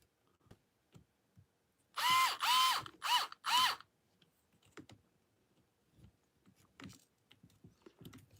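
A bolt being worked through a 3D printed shock mount on a TRX4 cantilever kit: four loud, closely spaced bursts of whirring, ratcheting mechanical noise, surrounded by faint scattered clicks and taps of handling the parts.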